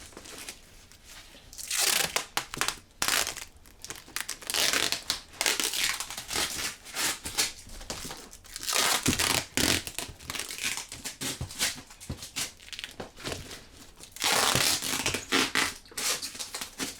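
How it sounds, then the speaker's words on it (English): Packing tape is pulled and pressed down to seal a moving box: a run of close, loud crinkling, ripping tape bursts with short pauses between pulls, and no talking. "and you tape the box"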